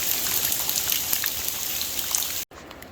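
Continuous rushing water from a waterfall on the Ozark Highlands Trail splashes steadily, a bright even hiss of falling water that cuts off abruptly near the end.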